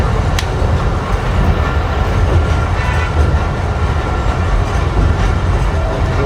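A Sukkur Express train of Pakistan Railways crossing the pillarless bridge gives a loud, steady, close rumble of wheels and carriages that holds without a break, with no voices.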